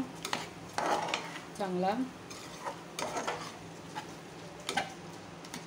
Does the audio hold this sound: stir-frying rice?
yes